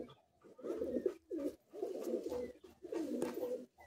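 Madrasi high-flying pigeons coo in a Kolkata loft, a few soft, low rolling coos in quick bursts with short pauses between, fairly close and fairly quiet.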